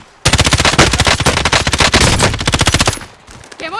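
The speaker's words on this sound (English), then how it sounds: "Taking fire over here!" Loud, close automatic gunfire in the video game Warzone 3: a sustained rapid burst of shots lasting about three seconds, then a brief pause before more fire.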